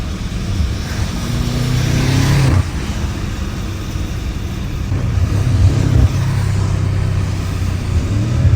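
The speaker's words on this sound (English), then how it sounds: "That car coming fast as shit." A car speeds closer on a road, its engine rising into a loud, steady roar over several seconds with a brief surge midway. Constant low road rumble continues throughout with no talking.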